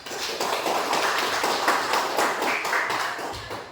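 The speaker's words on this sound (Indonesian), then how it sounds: "Berikan aplaus untuk kelompok 4." Applause from a classroom audience for a student discussion group, a steady patter of many hands clapping at moderate loudness for several seconds.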